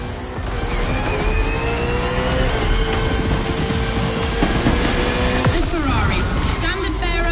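Loud, continuous roar of racing car engines with whining, shifting pitches and high-revving passes, steady throughout with no pauses.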